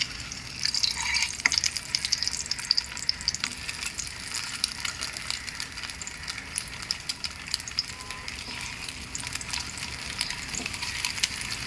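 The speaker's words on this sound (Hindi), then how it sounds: "ऑयल जैसी गर्म हो जाएगा, अंडों को हम इस तरीके से इसमें रखेंगे इधर" Eggs frying in hot oil on a tawa, a steady bright sizzle and crackle that holds at an even level throughout with no talking.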